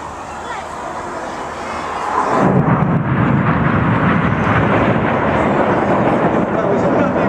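Red Arrows jet aircraft fly the infinity break manoeuvre at an air display, the lead jet pitching up and barrel rolling around the formation; a distant jet roar swells into a loud, broad, continuous rumble that holds steady.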